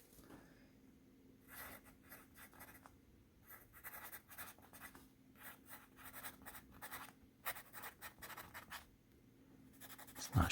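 A scratchy YOUVA natural cedar No. 2 pencil, poorly sharpened, scrapes across paper in close, quiet bursts of rapid strokes separated by short pauses, with a louder knock at the end.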